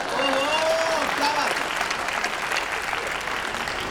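Audience applause at a Hindi comedy poetry gathering, a dense sustained wash of clapping filling the hall for several seconds, with a few voices briefly audible at the start.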